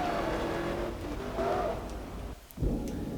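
A Chevrolet Camaro race car in Forza Motorsport 3 roaring loud and close, its engine note rising and falling under acceleration, then a sharp thump near the end.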